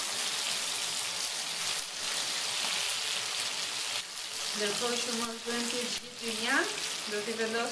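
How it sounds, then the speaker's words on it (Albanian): Peppers fry in olive oil in a pan with a steady, close sizzle throughout, joined midway by clinking and stirring sounds and a brief tonal squeak near the end. "e do vendosim specat për të skuqur"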